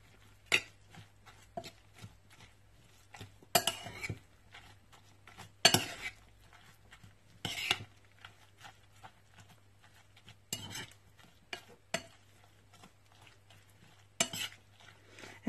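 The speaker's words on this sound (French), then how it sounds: "Et je mélange le tout." A utensil clinks and scrapes against a bowl while tajine ingredients, seasoned with salt, black pepper and parsley, are mixed together, giving sharp intermittent knocks in a quiet kitchen with a low steady hum beneath.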